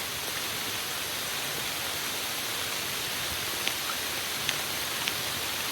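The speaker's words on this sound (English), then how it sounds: "I'm trying to wait for it to stop raining" Steady, dense rain hiss fills the whole stretch, even and continuous, with a few faint drips or taps standing out near the end.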